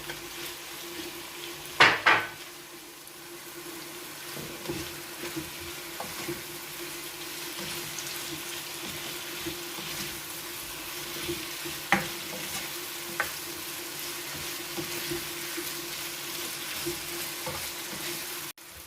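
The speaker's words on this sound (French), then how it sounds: "Et maintenant, je vais mettre la tomate découpée aussi." Chopped tomato goes into a hot pan with a sharp burst of noise, then a low steady sizzle of frying runs on with occasional clinks and scrapes of stirring, close and without talk.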